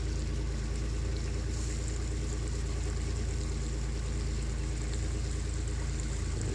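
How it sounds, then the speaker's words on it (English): A loud car engine idles nearby in a backyard setting, giving a steady low rumble that runs unbroken throughout. "Big loud car going."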